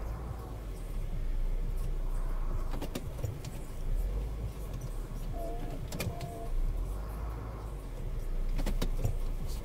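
A car turns around on a wide road and heads downhill, heard from inside as a steady low engine rumble with a few faint clicks and ticks and no voices.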